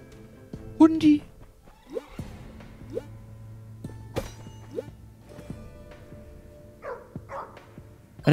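A cartoonish dog barks a few times in the video game Undermine, short yaps scattered among game sound effects and thumps, with a person talking in between.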